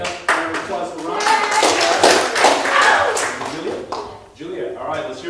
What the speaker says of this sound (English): Come, applause for Ron